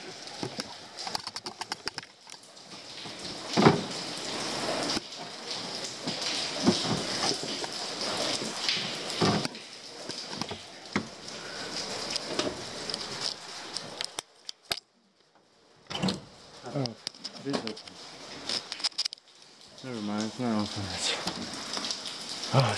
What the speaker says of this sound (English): Oh, it's rainy in here though.